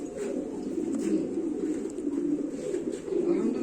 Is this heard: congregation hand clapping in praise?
no